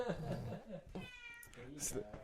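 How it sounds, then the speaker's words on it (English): A fifteen-year-old tailless cat meows several times close by, a drawn-out cry then shorter calls, heard over quiet indoor talking. "Can everybody hear the cat?"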